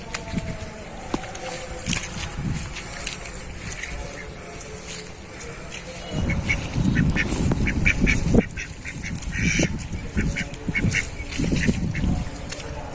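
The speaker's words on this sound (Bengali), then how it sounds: "আজ আমি এই বিলে এসেছি একটা হাঁস ধরবো পাতি হাঁস" Domestic ducks quack and honk at a marsh, with bursts of splashing and movement at close range, and steady background ambience throughout.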